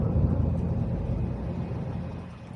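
A Range Rover SVR engine gives a deep, steady low rumble heard up close, a heavy throaty drone that fades slightly toward the end.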